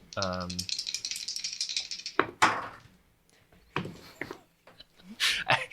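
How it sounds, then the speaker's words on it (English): Dice rattle rapidly inside a closed dice tray for a couple of seconds, followed by scattered knocks and clatter. A voice briefly sounds at the very start and people talk later, overlapping some of the clatter. "instead of rolling in the dice tray, you put the dice inside. Hear the dice."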